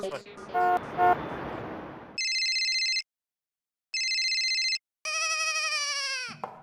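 A phone ringtone plays in loud electronic bursts, two identical tonal blasts separated by silence, then a longer rising melodic tone, after some brief voices.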